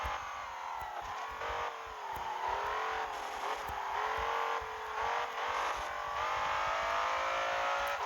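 Modified BMW M5 engine in the Assoluto Racing video game, a continuous loud revving drone with shifting pitch as the car accelerates and brakes, alone without talk.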